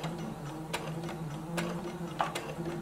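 A sewing machine back-stitching fabric for a faux wrap skirt, a steady mechanical whir with regular clicking needle strokes, close and alone.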